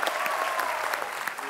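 Studio audience at The Kapil Sharma Show clapping loudly and steadily throughout, a dense, close wash of applause.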